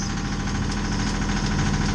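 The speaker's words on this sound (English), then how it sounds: "so now the alternator's hitting hard" A boat's engine drones at low RPM while a Balmar XT170 alternator pulls heavy charging load at about 135 amps. The dense, steady, loud hum is close by and never lets up.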